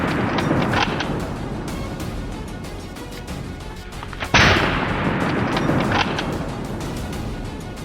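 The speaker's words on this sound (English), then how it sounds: "fired a second shot, this time to kill the prey" A rifle fires during a wild boar hunt, with a loud, sharp report midway followed by a long echoing rumble, set against steady outdoor background noise.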